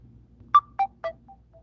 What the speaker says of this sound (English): My phone keeps going off and it's irritating me.